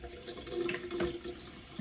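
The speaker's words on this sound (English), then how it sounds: "the water I'm using is not lukewarm, it's actually cold" Cold tap water runs steadily into a bathroom sink during face rinsing, a soft continuous hiss and splash with faint gurgles, quiet and close with no speech.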